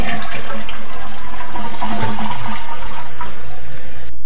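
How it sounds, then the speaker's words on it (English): A toilet flushes loudly and close, a rushing surge of water that swirls and drains over several seconds, then tapers off near the end. "Flush it down the toilet!"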